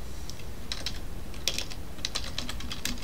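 Someone types C# code on a computer keyboard, with quick irregular clusters of crisp key taps, close but soft over a low steady background hiss.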